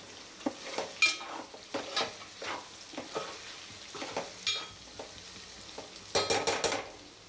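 Potatoes, carrots and shallots fry in a pan with a quiet background sizzle. Repeated sharp utensil scrapes and clicks come at irregular intervals, ending in a quick burst of stirring.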